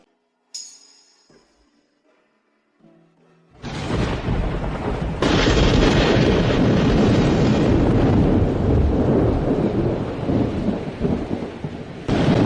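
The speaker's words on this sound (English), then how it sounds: "It's finally raining." A heavy rainstorm with thunder bursts in after a few quiet seconds, a loud rumbling crack giving way to dense, continuous roaring rain that stays near and strong, with some wind buffeting the microphone.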